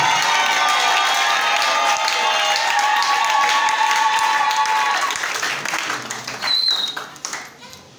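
Church congregation applauding and cheering at a worship service, sustained loud clapping with crowd voices and tonal music underneath, thinning out toward the end.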